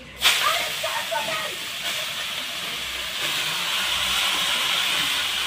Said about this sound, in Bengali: মাছ ভাজা তেলের পরে আমি এখন পালং শাক ছেড়ে দেবো।